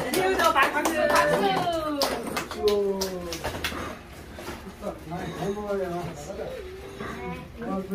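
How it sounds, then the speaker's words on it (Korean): Family members clap their hands at a grandfather's birthday party in Gyeongju, quick bursts of applause in the first few seconds mixed with children's and adults' voices talking throughout. "박수."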